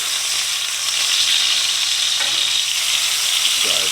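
A cream cheese stuffed pork backstrap sears in a pan, a loud, steady, close sizzle and crackle of hot fat throughout, with a light shuffle partway as the meat is moved.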